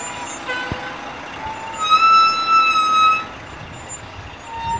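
A volunteer emergency squad truck rolls past in a small-town Christmas parade in Rosman, North Carolina, its engine rumbling nearby while a sustained siren or horn tone swells and fades over steady outdoor crowd ambience.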